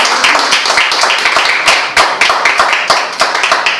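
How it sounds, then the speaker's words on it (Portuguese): A congregation clapping during a church service, brisk individual handclaps standing out as sharp distinct hits over a busier background of applause, close and loud. "Será que você pode aplaudir o Senhor por essa certeza?"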